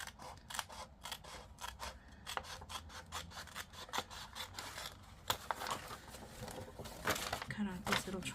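Scissors snip close up through paper, cutting out small triangles for scrapbook envelopes, in a rapid run of crisp, repeated cuts with brief pauses and a few louder snips near the end.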